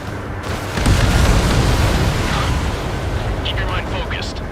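An enemy transport blows up in the Ace Combat video game, a loud booming explosion that swells after the first second and rolls on as a steady, roaring rumble.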